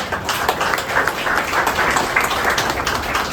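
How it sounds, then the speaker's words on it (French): Guests at a hotel inauguration ceremony applaud the construction team, a brisk burst of many hands clapping together, fairly close and steady throughout. "recevoir leurs félicitations par les acclamations"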